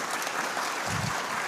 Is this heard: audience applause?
yes